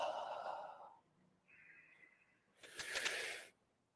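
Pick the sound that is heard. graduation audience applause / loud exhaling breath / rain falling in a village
loud exhaling breath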